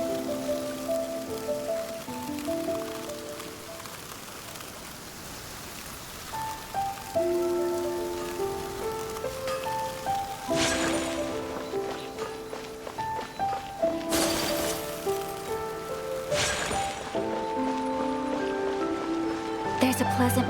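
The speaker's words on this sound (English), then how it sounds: "Let us find shelter from the rain." Steady rain patters and splashes across a surface in a video game, a soft continuous wash under sustained melodic tones, with a few heavier bursts of noise along the way.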